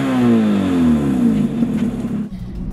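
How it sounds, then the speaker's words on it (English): A naturally aspirated 1.6 engine in a Fiat Palio 1.6 S10 hot hatch revs hard and loud, its pitch sweeping down and back up as the throttle is worked, close up with no talk. "The way it revs."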